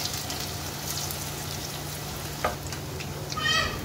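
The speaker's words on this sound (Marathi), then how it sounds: "परत दुसऱ्या पण तळून घ्यायच्या आहे" Aluvadi, colocasia leaf rolls, frying in hot oil, a steady soft bubbling hiss with a faint hum beneath and a couple of brief brighter crackles near the end.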